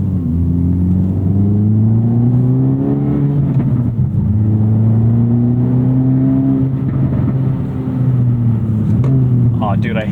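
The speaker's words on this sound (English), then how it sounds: "Exhaust is sounding great. It's actually stock exhaust, but he deleted a resonator, so it's a bit louder." An Acura Integra with its stock exhaust and the resonator removed drones and revs from inside the cabin, rising and falling in pitch across gear changes beneath steady conversation.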